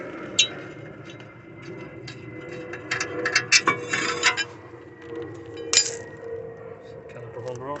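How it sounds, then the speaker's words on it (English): A ratchet with a 16mm socket works the caliper holder bolts on a BMW E46 front hub, giving uneven bursts of metallic clicks and clanks, close and fairly quiet. "here I've got a 16mm socket on the caliper holder. I'm gonna get those off"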